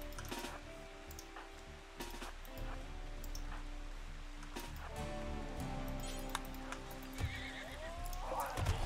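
A horse in the video game Rimworld whinnies near the end, a loud rising neigh following soft clip-clop hoof sounds and ambient game noise throughout.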